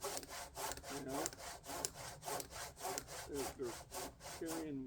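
Hand saw cutting through a wooden log with steady back-and-forth strokes, a rhythmic rasp repeating roughly every half second, close and loud, with no talking.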